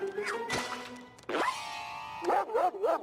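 Cartoon guard dog barking in a few close, loud yaps with whiny, yelping tones between them, standing alone with no talk over it.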